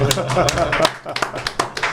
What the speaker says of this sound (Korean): 장해찬 최고위원님 박수 좀 쳐드릴게요